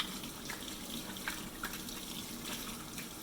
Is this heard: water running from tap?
yes